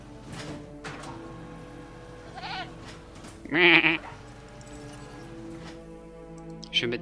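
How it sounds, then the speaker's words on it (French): Goats bleating in the Jurassic World Evolution video game, a few short cries spaced apart with one louder call in the middle, over a quiet game ambience with faint talk. "Je vais mettre des chèvres."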